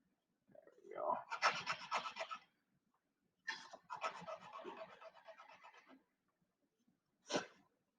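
Wood is sanded by hand to square up an edge, giving two long bursts of close scratchy rubbing strokes and then a brief final swipe after a pause, alone and fairly faint.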